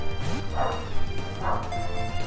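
A pet dog in the room gives two sharp barks about a second apart, loud and close, over steady background game music.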